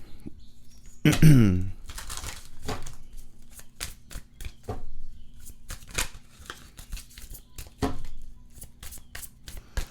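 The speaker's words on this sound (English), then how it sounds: "Let's grab some oracle cards." Oracle cards are handled and shuffled close by, a burst of riffling followed by scattered soft taps and flicks of card stock at an uneven pace, with no speech.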